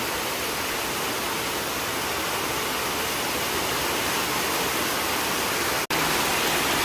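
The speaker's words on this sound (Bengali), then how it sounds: "রাস্তাঘাট কিছু দেখা যাচ্ছে না, একদম এত জোরে বৃষ্টি আসছে," Heavy rain pours down hard and constantly, a loud, dense roar of water with no letup except one split-second dropout near the end.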